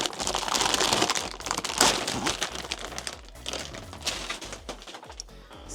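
Plastic packaging around a pathology annotation tablet crinkles loudly and continuously as it is pulled open by hand, close up and unbroken, with no talk.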